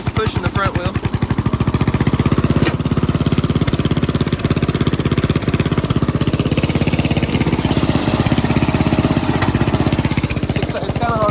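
An old lawnmower engine chugs steadily while mowing, a loud, close, rapid pulsing putter that runs without a break throughout.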